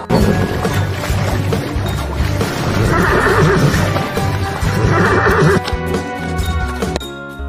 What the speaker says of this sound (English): H for horse.